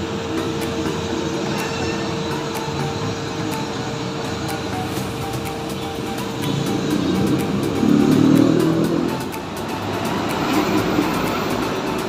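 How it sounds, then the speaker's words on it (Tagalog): A crane's engine warming up at night, a steady low diesel rumble with a faint constant whine on top, swelling slightly louder for a few seconds before settling back. "So ikinokondisyon na nga po nila itong isang crane."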